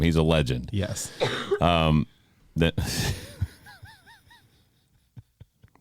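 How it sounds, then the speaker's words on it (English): A man gives a short, sharp cough in the middle of podcast conversation, loud and close, between stretches of talk. "I have a little cough."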